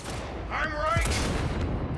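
Cyberpunk 2077 gunfire crackles in a short burst of sharp shots and echoing booms, with a voice calling out over the shooting.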